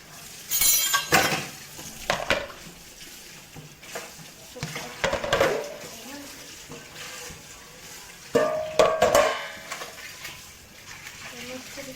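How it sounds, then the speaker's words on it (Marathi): Pots and dishes are scrubbed and washed at home, including a burnt pot, with irregular clatters, scraping and splashes of water rising and falling in bursts. "भांडे घासते बघा, सगळी भांडी घासते"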